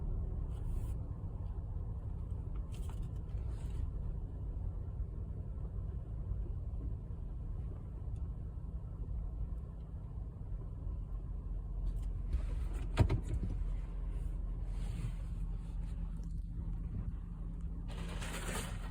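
Sonny's car wash tunnel at Bubble Up Car Wash in Broken Arrow, Oklahoma, running with a steady low mechanical rumble heard from inside the car, with a sharp knock midway and hissing spray bursts.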